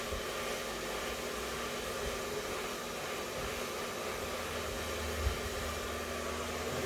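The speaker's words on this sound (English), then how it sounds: "because I'm leaving the blow dryer nice and flat" A handheld blow dryer held flat drones steadily against hair, a constant airy hiss and whir at moderate level with no pauses and no talking.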